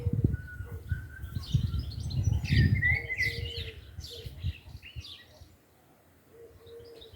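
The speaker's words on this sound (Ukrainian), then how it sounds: "як красиво співають птички" Several birds chirp and sing nearby over a low rumbling background, with bright trills coming and going before the sound thins out.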